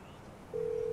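A phone being dialed to call the insurance, with a muffled background murmur that gives way to a single steady telephone tone held for the second half.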